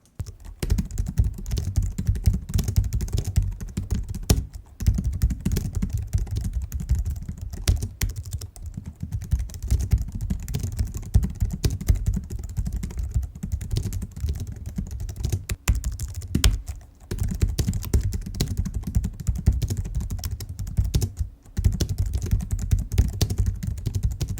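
Steady, rapid typing on a Logitech MX Keys keyboard, dense clacking keystrokes close up with brief pauses, no voices.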